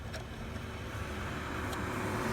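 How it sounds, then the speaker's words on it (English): Steady road traffic rolls past a driveway where a 1974 GM C10 pickup is being worked on, a continuous moderate rumble with a faint hiss that swells slightly toward the end, with no one speaking. "there's a lot of traffic today."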